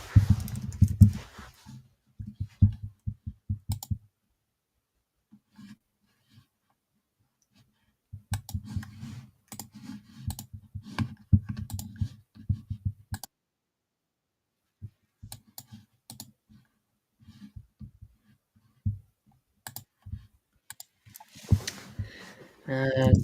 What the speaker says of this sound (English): Just typing something.